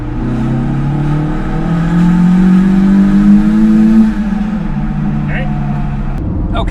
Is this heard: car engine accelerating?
yes